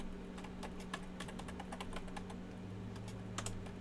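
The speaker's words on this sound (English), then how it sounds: "I'm going to type in some text here on my canvas" Text is typed on a computer keyboard in a quiet room, a quick irregular run of soft close key clicks with a few brighter taps over a low steady hum.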